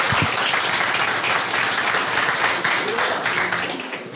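A church congregation applauds in a dense, steady wash of clapping that stays loud for several seconds, with a few faint voices mixed in beneath it.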